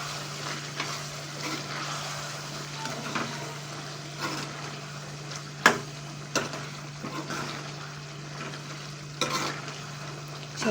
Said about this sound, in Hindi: अब हम इसके अंदर डालेंगे कौरमा मसाला और इसको मिक्स करेंगे।